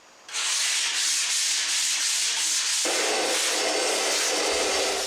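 Sanding the wood trim of a 1930s silky oak sideboard: a steady, close, abrasive rasping begins after a brief quiet moment and continues without pause, with a slight change in tone partway through and no speech.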